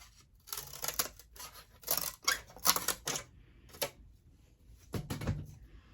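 Scissors snip through a wafer-thin sheet in a quick series of crisp cuts, with a pause before a final cluster of snips, close and without speech.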